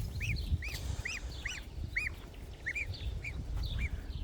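Goslings give a steady series of high, rising peeping calls outdoors, about two per second, close by and clear over a low background rumble, with no talking.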